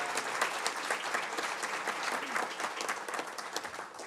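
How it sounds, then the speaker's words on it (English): A room of people applauding a new middle school principal at a school board business meeting: brisk, dense clapping that stays full and steady throughout, fairly close, with no talk over it. "Let's give him a round of applause."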